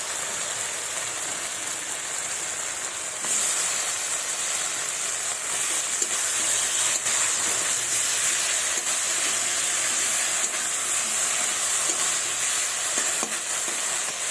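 Tomato dropped into hot oil in a pan while cooking a bottle gourd and fish curry, giving a steady loud sizzle and frying hiss that swells slightly after a few seconds and continues throughout, with faint stirring sounds.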